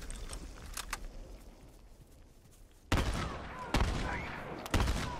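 Shotgun blasts in a multiplayer match of The Last of Us Remastered, three sharp booming shots spaced about a second apart after a quieter stretch of scattered distant gunfire, with no voices.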